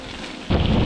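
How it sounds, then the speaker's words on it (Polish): Heavy rain pours outdoors during a bike trip, a dense roaring wash that suddenly grows much louder and deeper halfway through, as if a gust or a stronger downpour hits close by. "Trochę pada, żeby nie powiedzieć, że leje."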